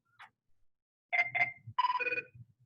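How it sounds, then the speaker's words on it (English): A cell phone ringtone rings in short bursts, a couple of quick tones followed by a longer ring, fairly faint and alone. "sorry, my phone's ringing"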